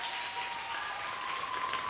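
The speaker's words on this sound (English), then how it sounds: "Give her a hand clap." Audience applause for a singer on a broadcast talent show, a steady wash of clapping at even volume with a faint tonal hum running beneath it, no distinct voices.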